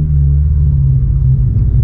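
Engine of a 10th-generation Honda Civic running a Ktuner tune, heard just after the throttle is released in first gear: a steady, loud, close low rumble with no voices.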